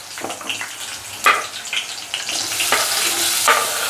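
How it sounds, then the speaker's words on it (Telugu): Onions sizzle and fry in a pan for a dried fish curry, a close crackling hiss with occasional stirring scrapes and small bursts throughout. "ఇప్పుడు ఇందులో మనం ఆనియన్స్ యాడ్ చేసేసుకుందాం"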